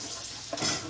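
Angus beef salvaged from a dumpster fries in a pan with onions and garlic, giving a short burst of close, steady sizzling that briefly swells as it is stirred.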